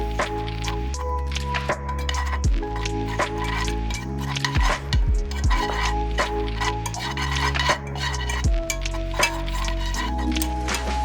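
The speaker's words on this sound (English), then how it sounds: "I'm going to stir the bad boy up" Herbal oil warming in a pot by the warm method is stirred, giving scattered clinks and scraping knocks against the pot under steady tonal background music.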